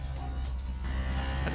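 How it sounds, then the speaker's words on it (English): Wind pushing through the gap at the edge of a door from a garage on a very windy, bitterly cold day in Ohio, a steady low rushing roar with a faint whistle, continuous and fairly quiet. "wind coming through the edge of my door from my garage"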